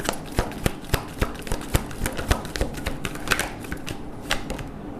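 A deck of tarot cards is shuffled, giving a quick run of crisp, regular riffling snaps up close with no talk.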